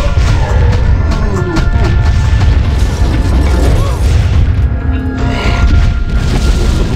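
Cannons firing in the battle game Kingdom Under Fire: A War of Heroes, a dense, loud stream of booms and crashes with clanking mechanisms and bursts layered over a heavy rumble of combat.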